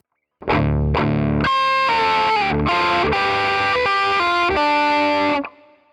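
Distorted electric guitar, playing a solo, opens with a couple of choppy muted strums, then moves into a sustained, ringing melodic phrase that cuts off at the end.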